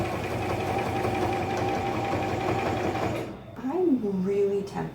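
A sewing machine runs steadily, stitching in the ditch along a dress bodice seam, its motor hum continuous for about three seconds before stopping, after which a voice speaks.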